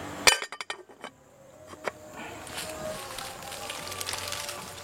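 Sharp metallic clinks and clatter as a lid is set onto a cooking pot of spicy snails in yellow coconut milk broth, several quick hits up front, then a low simmering hiss.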